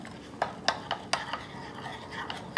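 Pancake batter being stirred in a bowl at home: a scatter of sharp clinks and scrapes as a utensil knocks against the bowl, irregular and close, with no talk.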